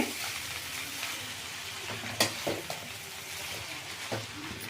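Egg noodles fry and get stirred in a hot pan, a continuous sizzle broken by a few sharp scrapes and clacks of the utensil against the pan, close and fairly quiet, with no talking.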